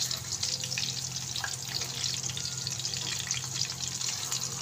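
Cheese-stuffed chicken kababs frying in a pan, giving a steady, moderate sizzle with a faint hiss of oil throughout, close by and without talk.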